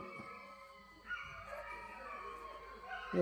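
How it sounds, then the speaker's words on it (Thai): Dogs howling at dawn, drawn-out wavering howls rising and overlapping at a distance, faint over a quiet rural background. "โอ้เสียงหมาหอน"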